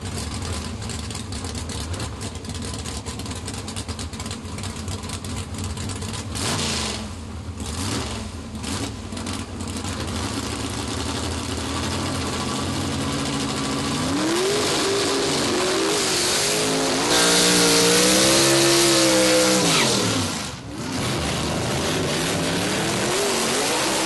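A period-correct straight-axle gasser drag race car idles with a rough, lumpy drone, then revs up and down loudly in long sweeps before settling, close and alone.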